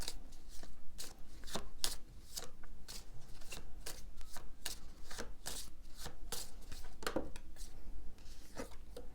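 Cards shuffled for a card reading, a dense run of crisp rapid riffles and flicks close to the mic, continuous for several seconds without talking.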